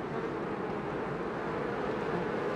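Honeybees buzz in a dense, steady drone around a hive entrance, a continuous swarm of wingbeats close by and unbroken throughout, with no voices.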